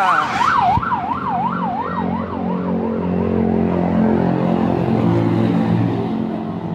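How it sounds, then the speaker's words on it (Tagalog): A wailing ambulance siren sweeps up and down rapidly, then settles into a slower, steady tone with traffic rumble underneath. "Ambulansya."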